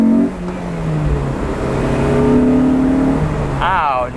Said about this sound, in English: let's get full throttle